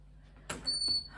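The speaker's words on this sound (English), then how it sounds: "Let me shut the door." A door shuts indoors on a rainy day, giving a single soft thud followed by a brief squeaky rattle as it closes, fairly quiet and heard alone.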